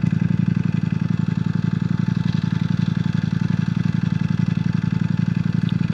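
A motorcycle being ridden on a hot summer night, its engine holding a steady, loud, throbbing drone close by, without pauses or talking.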